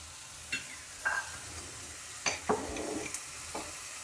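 Jaggery and tamarind sautéed in a pan for a bitter gourd dish, with a low sizzle and a few distinct spatula scrapes and taps spread across the clip, close and fairly quiet with no talk.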